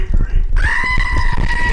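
A screaming goat toy lets out a loud, sustained bleating scream that starts abruptly partway through and holds steady to the end, over people chattering in the background.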